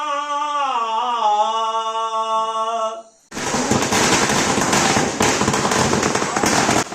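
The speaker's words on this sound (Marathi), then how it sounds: "अशा फटाक्याच्या आवाजात तुळशीचा लगीन धूमधडाक्यात लागला" A sustained, wavering musical tone stops, then a dense barrage of loud, rapid firecracker bursts crackles and pops continuously at a Tulsi Vivah celebration in Konkan.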